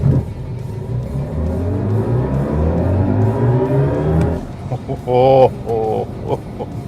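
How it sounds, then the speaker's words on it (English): A BMW i5 M60 electric car launches hard under launch control, its motor whine rising steadily and loudly for about four seconds before easing off as someone speaks over the end. "Showing launch control active, 3, 2, 1 and go."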